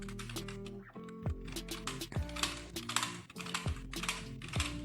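An Amkette USB keyboard clatters close up as keys are pressed in quick, irregular bursts, with sharp plastic clicks and a low hum underneath.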